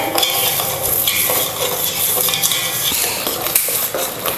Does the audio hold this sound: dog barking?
no